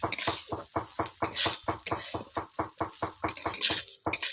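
Marinated rice for basanti pulao fried and stirred in a pan over low heat, with rapid regular scraping strokes of a spoon, about four per second, over a faint background sizzle.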